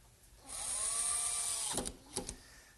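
A power drill drives screws into a wooden workbench piece, a steady whine lasting about a second and a half, then a few short bursts as the screw seats, close and loud.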